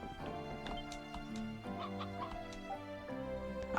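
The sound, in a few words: chicken clucking in Ys Celceta video game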